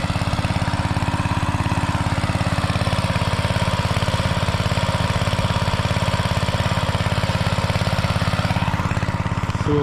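A 4-inch gasoline tail water pump engine runs at a steady, loud, close idle-like drone with an even rapid pulse and no pauses, pumping water out of a rice paddy.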